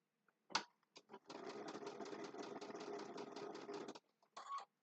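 A sewing machine whirs steadily for about three seconds with a rapid mechanical rhythm, close by, framed by a few short clicks and stitch bursts.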